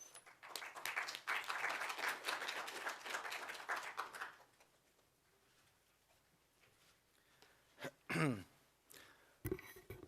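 A university lecture audience applauds to welcome a speaker at a forum, a dense burst of clapping for about four seconds that fades out, followed by quiet room sounds and a few brief knocks and rustles.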